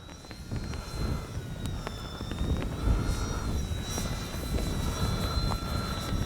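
An H-King Kitfox radio-controlled model plane with long wings flies overhead, its electric motor and propeller giving a steady, continuous whine and buzz for several seconds at moderate distance, with no talk.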